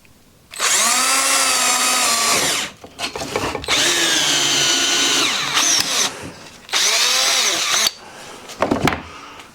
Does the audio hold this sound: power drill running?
yes